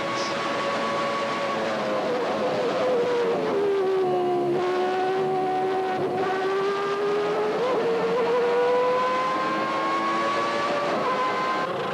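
1991 Formula One cars scream through a chicane in a continuous high-pitched engine wail, the pitch dropping as they brake into the corner and rising again on exit, with several cars overlapping and no voices.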